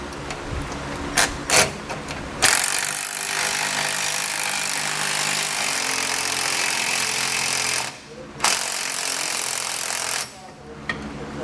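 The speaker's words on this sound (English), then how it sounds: "Now we can come back and tighten down the bolts that are holding our U-bolt on." Pneumatic ratchet or impact tool running down U-bolt nuts on a 2014 Ford F-250 axle while fitting Air Lift LoadLifter 7500 XL helper springs; a few short bursts, then a long loud sustained rattling run, a brief pause and another burst, close by.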